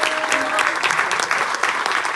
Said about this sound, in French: Et vous pouvez les applaudir en fait.